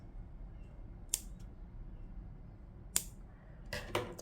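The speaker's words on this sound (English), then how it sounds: "I cut off the excess strands" Scissors snip off excess yarn strands on a crochet flower skirt, three short crisp cuts close by in a quiet room, the last a quick double snip.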